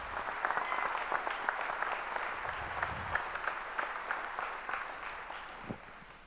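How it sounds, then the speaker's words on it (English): Audience applause at an ALS benefit event, a dense, steady wash of many hands clapping throughout, fairly distant and even, with a single louder clap near the end. "So round of applause for every person in here."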